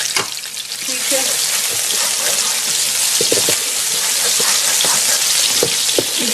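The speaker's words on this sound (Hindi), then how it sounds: "बस इसको सॉफ्ट करेंगे, प्याज को ज्यादा हमने ब्राउन नहीं करना।" Chopped onions softening in oil in a pan for beef dum kebab, a steady bright sizzle with occasional stirring clicks and scrapes.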